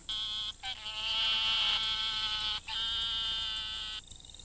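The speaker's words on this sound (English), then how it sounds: "The narrow-mouthed toad sounds like a sheep." A narrow-mouthed toad gives long, nasal, buzzing bleats like a sheep, two drawn-out calls close up with a short pause between.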